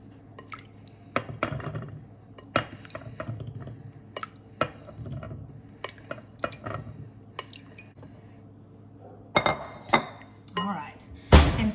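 Grapes being divided into bowls in a home kitchen while washing fresh produce, a scattered run of soft, close clinks, taps and wet squishes spread across several seconds, with a louder cluster of knocks near the end.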